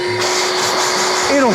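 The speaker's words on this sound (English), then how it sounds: "I just hit that button right there. I just turned my bucket into a vacuum." A bucket-top wet/dry vacuum switching on and running, a loud steady roar that starts abruptly and continues, with a voice briefly audible near the end.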